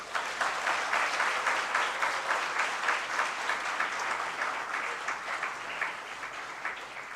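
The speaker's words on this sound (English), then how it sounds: "Have a sigh of relief and big round of applause." Applause fills a hall at the close of a panel discussion during a first-year engineering orientation program. The steady, moderately distant clapping runs throughout at an even level with no speech.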